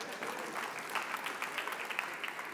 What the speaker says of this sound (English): Let's give a round of applause for California weather.